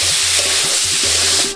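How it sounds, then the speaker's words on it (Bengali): Soaked rice fries in ghee, a brief, loud, even hiss of sizzling close by with a faint low hum underneath, cutting off abruptly at the end. "এবার একটু ভাজা ভাজা করে নেব"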